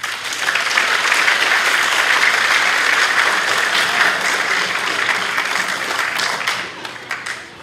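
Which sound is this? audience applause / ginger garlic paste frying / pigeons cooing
audience applause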